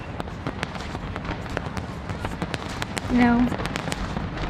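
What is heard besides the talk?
fireworks display in Sydney on New Year's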